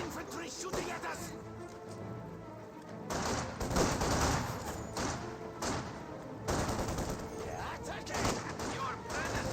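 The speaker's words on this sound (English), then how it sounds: "Infantry shooting at us!" Infantry rifle and machine-gun fire from a World War II battle in Company of Heroes 2, with dense, continuous volleys and bursts rising and falling over about ten seconds.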